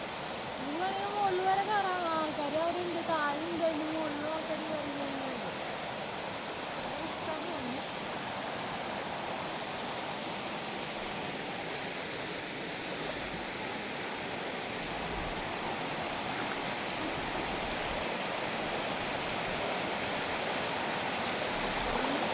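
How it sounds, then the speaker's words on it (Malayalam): Steady rushing water flows throughout, a broad continuous wash of a fast stream, with a brief voice-like warble near the start. "നല്ല ഒഴുക്കുള്ള വെള്ളം"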